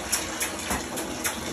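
Running shower water gushes steadily during a pet dog's first bath, a close, loud spray with faint pulsing surges, no talking.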